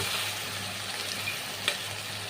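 Masala paste made with yogurt and spices fries in ghee for a prawn malai curry, giving a steady sizzle with occasional stirring scrapes and one sharp clink, no talking.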